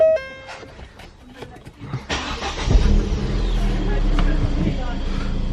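Ford Fiesta ST with a fresh performance modification starts up, its engine catching after a brief crank and settling into a loud, close idle with a rev, while a person talks over it at first.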